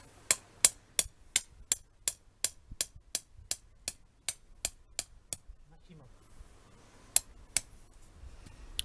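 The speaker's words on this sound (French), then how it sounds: "On enfonce au maximum avec le marteau" A hammer drives a metal stake into the ground for a garden tunnel, about sixteen sharp, evenly spaced metallic strikes, then a pause and two more blows. The strikes are close and distinct against a quiet background.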